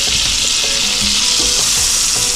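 Jerk-seasoned grouper fillets fry in butter in a hot pan, a steady dense sizzle with scattered pops and faint scraping, continuous and close throughout with no talking.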